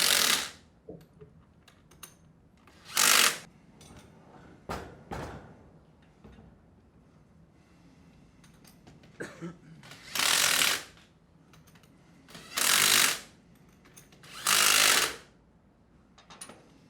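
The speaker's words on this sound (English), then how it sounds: "Go ahead and tighten the bolts up a little bit and then tighten them down evenly in a star pattern." A ratchet tightening the assembly bolts on an HD20F air-operated double diaphragm pump: several separate bursts of rapid, close clicking with short pauses between them and no voices.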